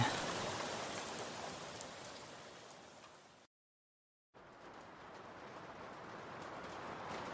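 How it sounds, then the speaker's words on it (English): Steady rain falling with a dense, even hiss of drops on surfaces, broken by a short silence before the downpour resumes. "rain."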